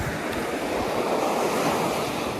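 Ocean surf rolling onto a beach on a salmon-fishing shore in southern Hokkaido, a loud continuous wash of breaking waves mixed with wind buffeting the microphone, no voices.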